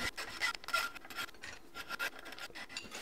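Hand file rasping over a cast straight edge to clean up the parting lines, repeated close scraping strokes in an even rhythm, quiet and alone.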